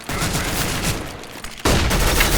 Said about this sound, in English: I don't know where the gunshots are coming from